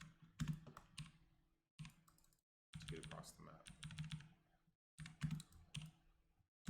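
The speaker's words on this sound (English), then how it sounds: "excuse the clickiness on my keyboard. I am going to be pressing a lot of buttons here" Clicky computer keyboard keys pressed rapidly while playing Lost Ark, bursts of close, quiet typing clatter separated by short pauses, with someone talking throughout.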